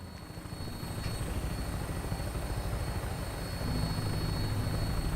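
Steady, dense rotor drone of a Fallout 4 vertibird aircraft in flight, a constant loud whooshing engine roar that thickens slightly near the end, with no voices.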